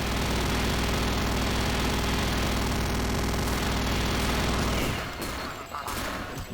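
Grenade-jump explosions in BioShock 2 build into a loud, dense, continuous roar of blasts that holds steady, then suddenly thins and drops away near the end.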